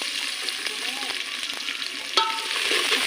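Onions frying in a pan over a wood fire, a continuous close sizzle with light stirring scrapes and a sharp clink near the middle, the hiss swelling toward the end.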